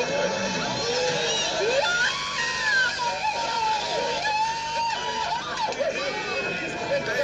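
Crowd of onlookers screaming and shouting in fright at a near-fatal moment, a dense continuous wash of overlapping voices with rising yells, loud throughout amid general hubbub.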